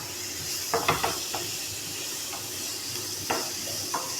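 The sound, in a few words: stirring onions sautéing in a pan for duck egg roast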